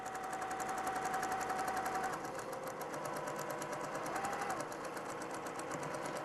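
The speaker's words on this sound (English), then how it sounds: "because it's a pocket, I'm gonna backstitch as I'm setting it on" A sewing machine backstitches a fabric pocket onto a reusable grocery bag, running as a steady, even mechanical whir with a rapid needle rhythm and a brief change in pace midway.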